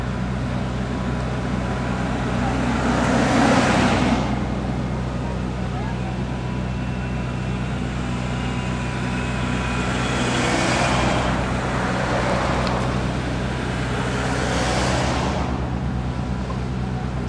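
Cars drive past on a road near a soldier crab, three separate whooshing passes rising and fading over a steady low engine rumble, moderately loud, with speech at times.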